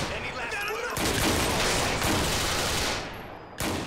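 Sustained rapid gunfire from a GTA IV shootout roars loud and close in a dense fusillade, breaking off briefly near the end before another burst.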